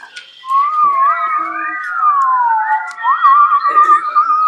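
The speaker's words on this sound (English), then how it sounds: "All right, that's enough whistling." A classroom group whistles together, several overlapping wavering tones sliding up and down in a loose, loud chorus after a brief quiet start.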